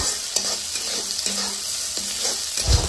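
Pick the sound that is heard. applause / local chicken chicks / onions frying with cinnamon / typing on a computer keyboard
onions frying with cinnamon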